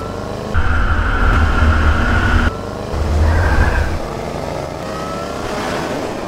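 A new Range Rover Sport engine on its world-record Pikes Peak run, loud and close, in two sustained surges of revving separated by a brief drop in power, with road and wind roar throughout.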